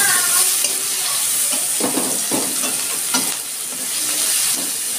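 Chopped onions fry in a pan as a steady, close sizzle, with occasional stirring scrapes breaking through the hiss; nobody talks.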